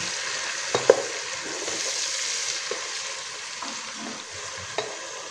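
Large chopped tomatoes frying in a pot for vegetable pulao give a steady sizzle, with a few light knocks of a spoon stirring against the pot, and nobody speaking.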